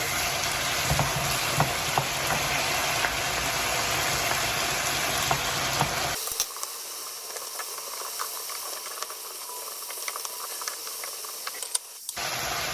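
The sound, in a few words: garlic frying in a pan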